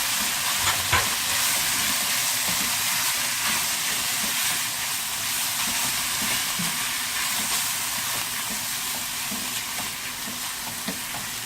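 Onions with black pepper and green chillies frying on high heat in a pan, a loud, continuous close sizzle with occasional stirring and no talk.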